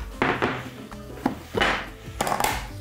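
Lamb meat is cut into portions on a board, giving a run of about half a dozen close, fairly loud knife thunks at an uneven rhythm, with no voices.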